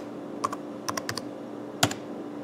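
A few sharp, close computer keyboard clicks come in small clusters: a single tap, a quick run of four, then a firmer final keystroke, over a low steady room hum with no talking.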